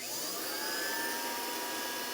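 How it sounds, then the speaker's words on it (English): Vacuum motor of a Robertson Photo-Mechanix 432 MK II process camera running in a darkroom, a steady loud broadband whoosh with a faint high whine, continuous throughout. "The vacuum motor is turned on,"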